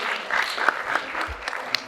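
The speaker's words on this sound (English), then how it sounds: "A round of applause" Audience at a university school tour event in Limuru applauds in a moderate, uneven patter of claps with sharper individual hits scattered through, heard from a slight distance.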